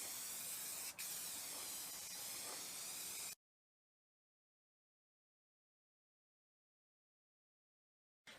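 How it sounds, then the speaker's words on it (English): A continuous hissing spray of flat black spray paint from a can lasts a few seconds and cuts off into silence, then a brief burst of hiss returns at the end. "Little flat black spray paint."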